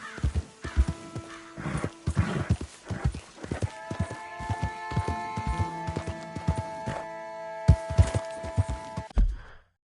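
Hoofbeats of a horse being ridden in Red Dead Redemption 2, a steady clip-clop with occasional snorts over a layer of background game music, fairly close and continuous.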